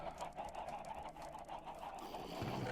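Chickens clucking in a Minecraft hardcore game, a steady layered stream of soft game-bird clucks and chatter running continuously at moderate level with no talk over it.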